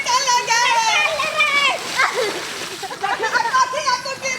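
Water splashing and sloshing inside a flooded house, continuous and close, with people, including a child, talking over it throughout.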